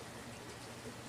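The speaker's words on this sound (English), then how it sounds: "Rain can be so calming" Rain falling in a continuous soft patter, faint and even throughout with no pauses or other sounds.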